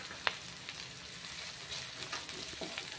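Curry leaves frying with onion and green chili in a home kitchen give a faint, steady sizzle. Occasional soft clicks and scrapes of stirring sit over it, with one sharp tap near the start and no voices.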